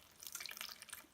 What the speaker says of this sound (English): when I open that air vent it allows the water out